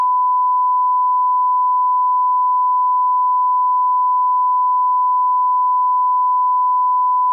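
One continuous steady censorship beep, a pure unbroken tone holding at even loudness throughout, alone with no other sound.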